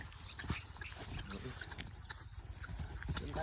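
Horse hooves clip-clop in a steady, fairly quiet rhythm outdoors, mixed with general background noise and voices talking.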